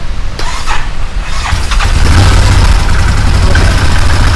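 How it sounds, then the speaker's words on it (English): The engine of a Massimo Militia 1000 UTV cranks briefly, catches, and settles into a steady, loud idle that continues to the end. "Let me fire this thing back up"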